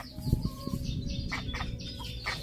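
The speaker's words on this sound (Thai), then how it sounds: "เจ้านี้คือเจ้าพวกเด็กเป็ดของเรานะคะ" Ducklings peep and chirp in quick, high bursts, close by, over a busy low rumble of background noise.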